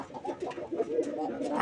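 Pigeons in a rooftop pigeon loft, soft overlapping throaty coos repeating close by in a steady murmur.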